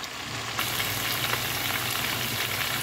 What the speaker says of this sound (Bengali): আরও 2 থেকে 3 মিনিট আমি কষিয়ে নেব